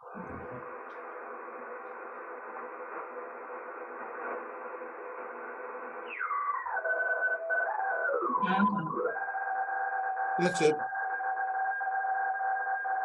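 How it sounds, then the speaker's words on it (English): FT8 digital radio mode tones come from a radio receiver as a steady, layered hum of tones that shift and slide partway through, with a brief high chirp near the end. A voice speaks briefly. "Music for the ionosphere, sound of FT8."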